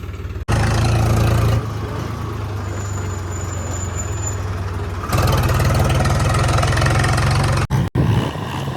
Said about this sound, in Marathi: मी ट्रॅक्टरचा आवाज कवरेज असा येतोय